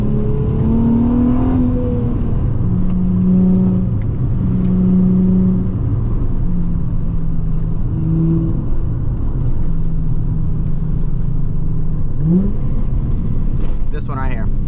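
A Nissan 350Z with warped brake rotors drives a twisty canyon road, its engine droning steadily and loudly up close, shifting pitch through the bends while a person talks over it.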